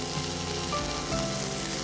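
Green peas and sweet corn sizzle steadily in a hot frying pan, making an even, close crackle with faint tonal sounds in the background.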